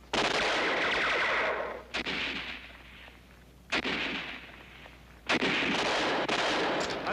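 Heavy gunfire from a 1960s World War II combat drama battle scene, loud sustained bursts broken by short lulls, with repeated volleys rising again, no talking.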